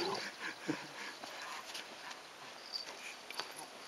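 Dog whimpering while playing tug indoors, thin soft whines scattered over a constant background hiss, with no clear speech.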